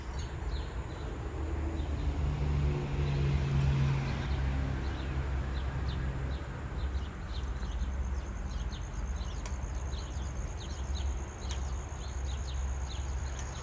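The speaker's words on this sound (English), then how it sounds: "those are house sparrows. I can tell by the sound they're making." House sparrows chirp in a neighbourhood around a house: short, faint, repeated high chirps scattered through the whole stretch over a steady low hum and outdoor background noise.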